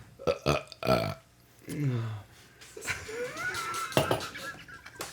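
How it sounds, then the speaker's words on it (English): Several loud, close burps in a casual podcast setting, some drawn out and croaky, mixed with wordless vocal noises and laughter-like sounds. "It's just a series of burps?"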